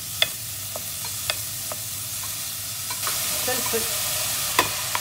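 Onion fries in a pan for Tunisian mtabga, giving a steady broad sizzle punctuated by sharp utensil taps and scrapes at irregular intervals.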